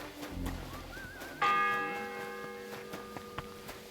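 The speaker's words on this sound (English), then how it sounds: "The 10th bell" A single church bell in Kingdom Come: Deliverance 2 strikes once with a sharp clang, then rings out in a long, slowly fading hum over quiet ambience.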